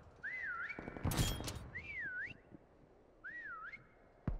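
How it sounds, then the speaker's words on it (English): Melodic whistling in an ice-cream-themed video game: three short rising-and-falling whistled phrases with gaps between them. A burst of crashing noise sits under the first phrase and a sharp thunk comes at the end. "we're about to whistle right now"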